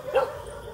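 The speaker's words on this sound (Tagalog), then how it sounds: "Dito may aso." Dog on a night visit, giving a single short bark near the start, fairly close, over faint background noise.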